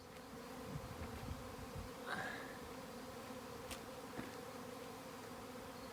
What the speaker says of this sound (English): the bees in the corner are going crazy this morning